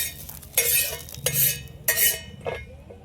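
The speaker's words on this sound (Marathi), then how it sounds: "भाजून घेतो खोबरं।" Coconut pieces roasting in a pan are stirred with a utensil, giving several brisk scraping, rattling strokes over a soft, steady background sizzle.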